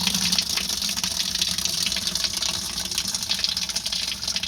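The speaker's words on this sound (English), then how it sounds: "They say fill half the tub full of water." Water runs steadily into a small tub of a compact washing machine that arrived damaged, a continuous close gushing stream filling the basin without pause and with no talking.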